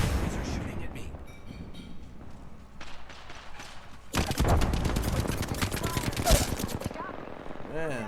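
Rapid bursts of gunfire from a shooter video game, sparse at first then turning into loud, dense volleys of repeated shots in the second half, with a player's voice talking over the action.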